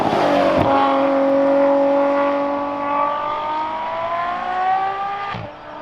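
Ferrari F12 Berlinetta V12 engine revving, a loud, close, sustained tonal roar that climbs steadily in pitch over several seconds before dropping off sharply at the end.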